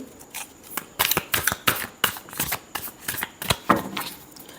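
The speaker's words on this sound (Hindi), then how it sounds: "Last shuffle." Tarot cards shuffled in a series of crisp riffling bursts, each a sharp papery flutter, repeating rhythmically and up close with no voice over them.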